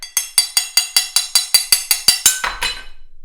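Rapid, even taps on a scored sheet of stained glass, about a dozen sharp glassy clinks in steady rhythm, close and bright, ending in a crackling snap as the glass breaks along the score.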